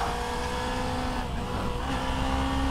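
A Suzuki V-Strom 250 motorcycle engine runs high in its rev range, giving a continuous buzzing drone that stays loud and close with slight shifts in pitch. No one speaks.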